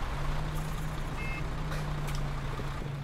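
Truck reversing in Altis Life, with a steady low engine hum throughout and a brief faint beep, sounding somewhat distant and muffled.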